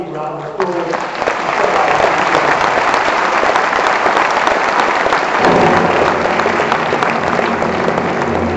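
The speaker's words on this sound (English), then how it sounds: "let's give them all one big round of applause" Loud, continuous audience applause filling the hall at the opening ceremony of the 2014 International Mathematical Olympiad, a dense roar of clapping that swells after the first second and holds steady to the end.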